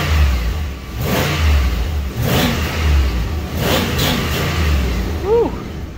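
Dodge Dakota with a 4.7 stroker V8 revving repeatedly, several rising bursts of engine roar separated by brief dips, close and loud.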